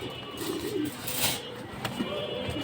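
A pigeon coos softly at close range, a couple of low, rounded cooing phrases over a faint background hiss.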